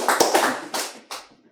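A small group on a basketball podcast claps in a few short bursts, close and sharp, the hand claps trailing off quickly between bursts.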